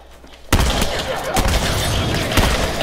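A shotgun blast rings out in The Last of Us video game: a sudden loud report followed by further bursts of gunfire, with a voice faintly audible beneath.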